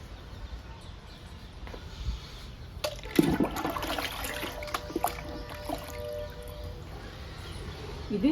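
Liquid plant feed trickles and splashes softly from a container onto indoor potted plants and coleus cuttings, with faint handling noises and a quiet room around it.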